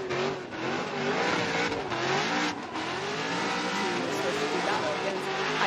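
A Formula Drift competition car on a solo bye run at a Utah round, on GT radial tires, roars loudly and steadily with rising and falling engine revs and a constant wash of tire and crowd noise throughout.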